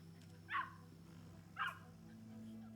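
A dog in the video game The Division 2 gives two short, sharp barks about a second apart, moderately close, over a steady low in-game hum.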